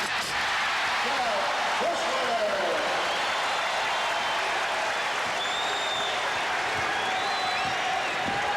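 A basketball arena crowd at a 1993 Portland Trail Blazers vs. Golden State Warriors game roars and cheers steadily in the final seconds, a loud, sustained wall of noise with whistles and shouts rising through it.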